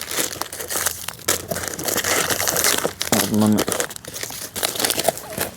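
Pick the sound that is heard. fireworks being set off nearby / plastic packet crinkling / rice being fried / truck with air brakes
plastic packet crinkling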